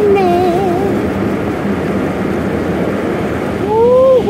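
Water sprays and washes over a car inside an automatic car wash, a steady loud rushing hiss that swells near the end, with people talking over it.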